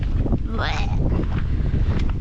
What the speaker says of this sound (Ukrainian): Здається, зараз починається вітер і буде дощик.